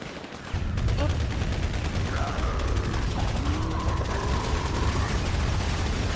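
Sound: gunshots in GTA 5 video game

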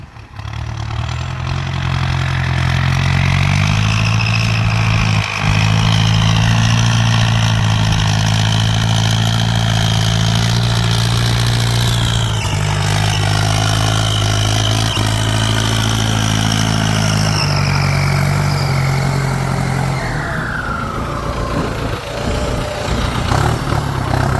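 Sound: Ford 5000 turbo tractor engine running

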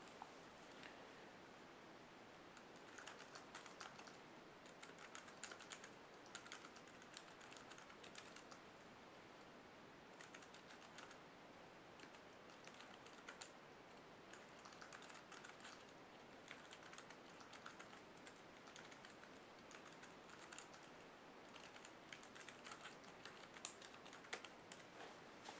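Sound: typing on Logitech keyboard case paired with Kindle Fire HD 7

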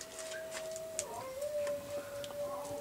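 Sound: dog howling

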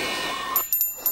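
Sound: bell ringing

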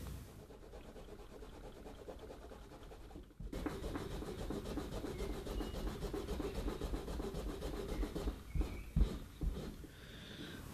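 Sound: scrubbing gummy glue off guitar pickup with solvent

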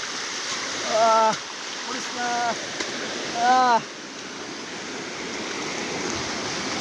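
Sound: Napittachhara waterfall, the biggest one

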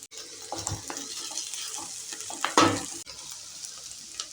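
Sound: stirring goli greens with dal in a pan

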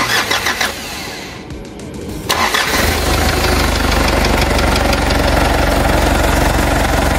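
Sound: 1994 Mitsubishi Pajero NJ 2.8 engine starting

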